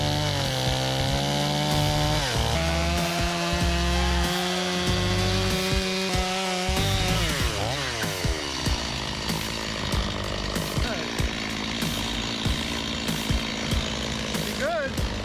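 A chainsaw cuts the back cut to fell a tree, the engine droning loud and close, its pitch dropping and rising as it bites into the wood, with rhythmic knocks in the latter half.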